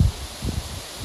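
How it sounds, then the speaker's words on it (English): Outdoors by a brick wall, wind gusts rustle in soft low bursts, a strong one at the start and weaker puffs after, moderately loud and close with no talking. "And it is a bit windy, I apologize."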